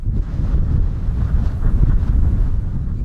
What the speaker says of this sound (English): introducing them to the wind that is an almost constant companion